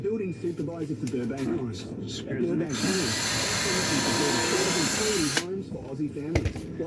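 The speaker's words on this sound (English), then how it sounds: "screwing the frame to these offcuts" A power drill runs continuously for about three seconds, driving screws through an old wagon's frame into wood offcuts, loud and steady between stretches of close talk.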